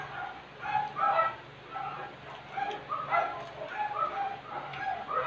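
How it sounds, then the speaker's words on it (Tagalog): A dog barks repeatedly in a steady series of yips, moderately near, continuing throughout with no talking. "Ang ingay ng aso."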